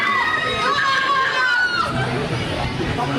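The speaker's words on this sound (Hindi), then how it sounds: "चीखें सुन सकते हैं, बड़ी दूर दूर तक चीखों की आवाज़ आती है।" Screams and shouts from riders on amusement park rides at Luna Park Melbourne carry from a distance over a general crowd hubbub. A nearby voice talks over the noise.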